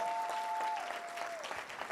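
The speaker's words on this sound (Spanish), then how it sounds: "Damos un aplauso al Señor." A church congregation applauds at a Sunday service, a steady dense patter of many hands held for the whole stretch, with a sustained tone ringing faintly underneath early on.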